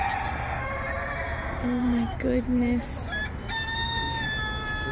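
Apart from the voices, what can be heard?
chicken crowing, rooster call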